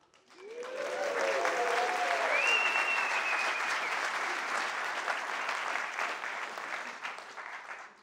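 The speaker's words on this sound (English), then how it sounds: "Let's give you a big cheer." A conference keynote audience breaks into steady applause with cheering and a few whoops, a dense, sustained roar of clapping that swells quickly and holds for several seconds.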